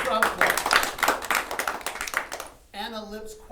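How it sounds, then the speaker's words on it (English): A golf gallery claps as two tied players walk up to the final hole, steady scattered applause that runs under talking voices, followed by a short spoken line. "The crowd claps."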